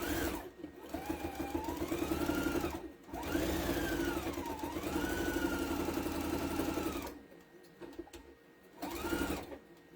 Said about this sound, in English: Then you just sew the bottom, the 1/4 inch too.